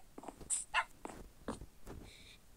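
Small dogs in a Minecraft survival game make several short yips and whimpering barks in uneven bursts, fairly close, with no voices over them.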